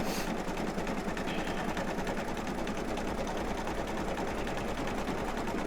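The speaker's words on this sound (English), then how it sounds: "it's going to stitch around certain spots" An embroidery machine stitches a gingerbread man design, a steady rapid mechanical chatter of needle strokes with an even motor hum, close and continuous throughout, no voices.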